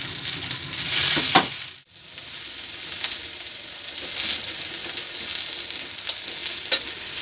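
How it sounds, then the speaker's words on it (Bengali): Pumpkin leaves fry in mustard oil on a hot tawa with a steady crackling sizzle and occasional stirring scrapes, close and continuous, briefly dipping quiet partway before the frying hiss returns. "তারপর ওই কুমড়ো পাতাগুলো তাওয়াতে দিয়ে নিয়ে ভালো করে দুপিট একটু ভেজে নিতে হবে।"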